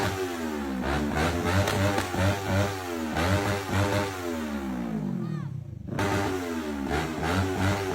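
A motorcycle engine revs loudly and repeatedly nearby, each throttle blip rising and falling in pitch, with a brief drop in sound before the revving resumes.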